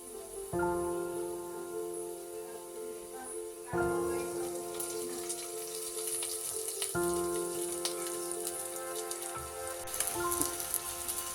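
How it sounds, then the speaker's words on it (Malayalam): Crushed garlic and ginger sizzle in hot oil in a pan, a steady crackling hiss running continuously beneath background music with repeating sustained notes. "ഇത് നല്ലോണം ഒന്ന് ഫ്രൈ ആക്കി എടുക്കാം."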